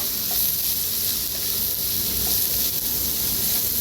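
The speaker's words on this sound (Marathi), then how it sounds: "त्याच्यातच टाकूया हिरवी मिरची, कांदा, त्याला भाजून घेऊया" Green chili and onion sizzle steadily in hot oil, a continuous close frying hiss with no break across the whole stretch and no voices.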